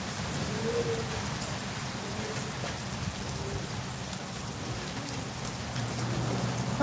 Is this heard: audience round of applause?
no